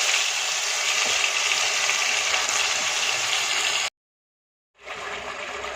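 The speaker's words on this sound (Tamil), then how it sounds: "நல்லா சூடான உடனே நம்ம எடுத்து வச்ச இந்த பேஸ்ட்டை நம்ம இதில் தாளித்து விட்டுடலாம்" Ground masala paste frying in hot oil in a kadai: a loud, steady hiss and crackle that cuts off suddenly for about a second, then resumes slightly softer, with no talking.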